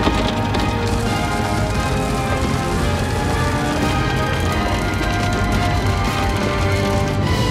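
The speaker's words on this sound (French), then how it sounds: "le bruit de la grêle" Dense, loud clatter of hail pelting a car body during the El Reno, Oklahoma tornado storm, a relentless rattling barrage that never lets up.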